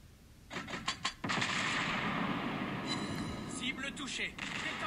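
Naval guns fire from the French destroyer Aigle in World of Warships Blitz: a quick run of booming shots, then a sustained rumbling roar, with a voice talking over it.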